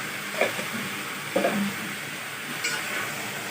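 Mixed vegetables and mango with panch phoron sizzle in oil in a wok, a steady close frying hiss with a few soft clinks and stirring knocks, no voices.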